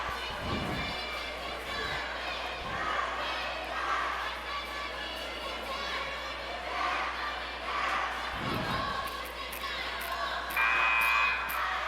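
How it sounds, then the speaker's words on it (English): A large crowd with a student pep block fills a school gym during a boys' high school homecoming basketball game, a steady roar of voices and shouts with a couple of deep thumps, as a commentator talks over it. "Good crowd, good pep block."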